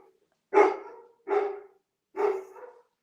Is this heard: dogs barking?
yes